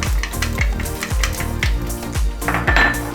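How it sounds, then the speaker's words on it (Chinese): Garlic frying in oil in a wok, a steady close sizzle broken by repeated metallic clanks and scrapes of a spatula stirring against the pan. "现在在原锅中补上一些油，然后开始来爆香我的蒜头。"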